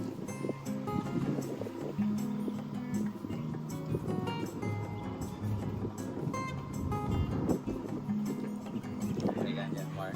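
Wind buffets the microphone outdoors at a housing development site, a steady loud rumbling roar throughout, with people talking underneath.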